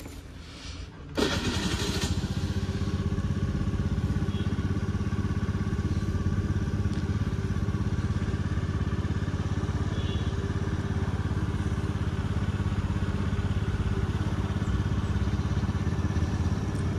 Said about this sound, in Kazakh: дальше кетеміз енді мопедімізбен.